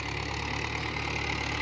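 A Mahindra Bhoomiputra tractor engine idles steadily at about 1300 RPM, a continuous close, loud mechanical drone with an even low throb and no talking.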